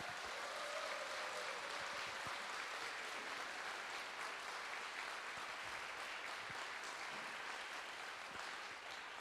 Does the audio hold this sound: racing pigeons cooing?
no